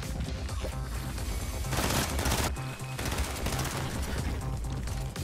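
Rapid pistol gunfire in Fortnite, with dense, loud bursts of shots mixed with crashes and other game noise, running almost without a break through the whole stretch and with no voices audible.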